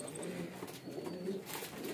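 Captive pigeons, including grey-feathered birds kept for sale, coo softly in a steady low murmur, close by and fairly quiet, with faint chirps above.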